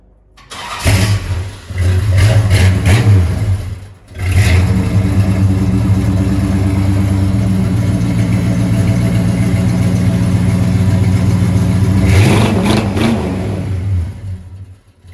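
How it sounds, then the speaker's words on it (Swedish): An Oldsmobile 455 big-block V8 fires up and revs loudly, with two crank-and-catch starts separated by a brief pause, then a sustained throaty, gurgling idle that swells near the end, heard close and alone. "så man får höra det härliga gurgliga ljudet som Big Blockaren har"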